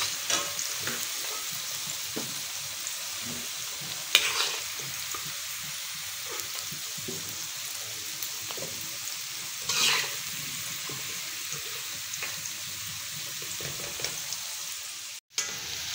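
Potato finger chips deep-frying in a pan of hot oil, giving a continuous soft bubbling sizzle with a few scraping stirs and knocks from a strainer. No one speaks over it.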